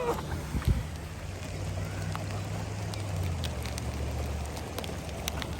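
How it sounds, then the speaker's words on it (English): Hailstones drop into warm water during a summer camping trip in Yellowstone, scattered sharp ticks and plinks landing irregularly over a low rumbling background. "those are the hail falling in"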